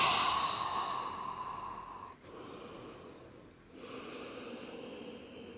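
A slow, breathy exhale during an intermediate power yoga flow in a narrow-leg child's pose, close and soft, with a brief pause and then more airy breathing, no speech.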